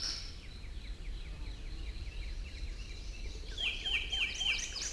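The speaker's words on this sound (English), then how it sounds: "it has one of these typical repetitive birds on" A bird repeats a short, high chirp every second or so against a faint, steady outdoor ambience, growing a little louder and sharper toward the end.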